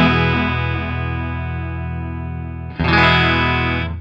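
Electric guitar chord sustained through an MC Systems Hybrid Chorus pedal, with a slow shimmering sweep, and a fresh chord struck near the end and left ringing, loud and alone.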